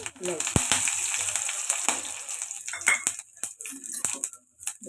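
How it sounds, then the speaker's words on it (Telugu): Whole spices and shahi jeera crackling in hot oil for matar paneer masala, a close, bright sizzle with sharp pops and a few spoon scrapes, fading into sparse crackles toward the end. "ఇప్పుడు అదే ఆయిల్లోని మసాలా దినుసులు వేసుకుందాం సాజీరా మసాలా"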